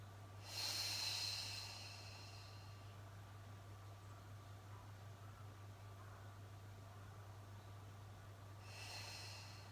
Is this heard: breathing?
yes